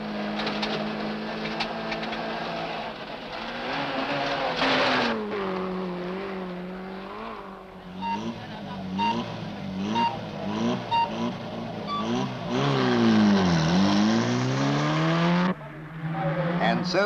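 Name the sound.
1968 rally cars driving on a special stage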